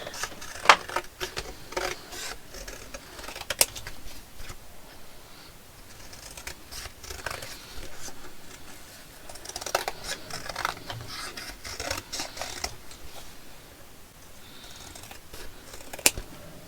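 Scissors snip through paper ephemera for a glue book in a steady run of short, close cuts with small rustles and pauses, with no voices.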